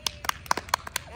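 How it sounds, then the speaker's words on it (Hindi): Sparse, irregular hand claps from a small group, several separate sharp slaps spaced unevenly over about a second, with voices around them. "तालियां बजाओ बे"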